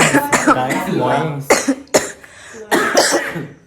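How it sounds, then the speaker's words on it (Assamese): A person coughing close up, several harsh bursts breaking in among nearby talk and voices during a family meal. "এফালে কাহ মোৰ পাই গৈছে"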